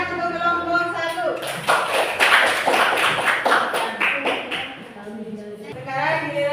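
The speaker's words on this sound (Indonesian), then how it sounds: "Ya, tepuk tangan untuk kelompok 1." Students in a classroom give a short burst of clapping for a group, a quick round of hand claps over a few seconds, with a teacher's voice speaking before and after.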